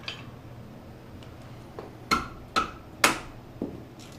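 Hammer blows strike a 1997 Ford Mustang SN-95 suspension part being knocked loose during lowering work: several sharp metallic hits, a few faint taps and then three loud close strikes in quick succession with ringing decay.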